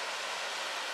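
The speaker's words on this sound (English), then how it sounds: "Raging creek" A raging mountain creek in snowy wilderness rushes as a steady, dense broadband roar, close and continuous with no other sounds.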